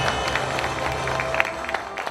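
An audience at a 2023 legislative report meeting applauds to welcome the Naju city council chairman to the stage. Scattered hand claps rise out of a murmuring crowd, fairly close and moderately loud, with a faint tonal hum underneath.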